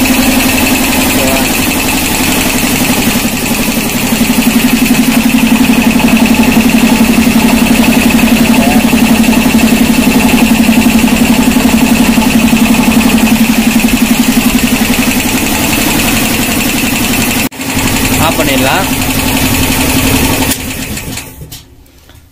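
Compressor motor switched on through a three-phase DOL starter, a loud steady hum running for about twenty seconds with a brief click partway through, then cut off.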